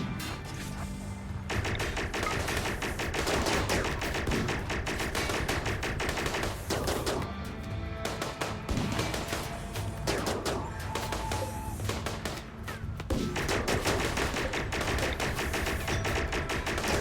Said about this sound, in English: I want them shooting at this uranium turret, so it's like less of a threat for me.